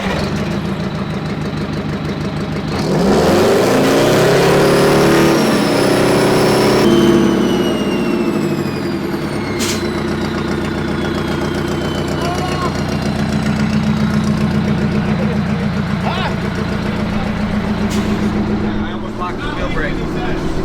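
Old fire truck engine cranking and then running with a loud, rough idle and a knocking rumble throughout, while people talk nearby over it.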